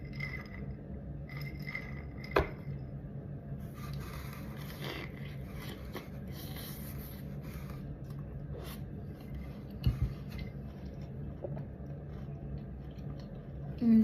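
Close, soft chewing and biting of a Crumbl cookie, with a few sharper crunchy bites scattered through steady quiet mouth sounds.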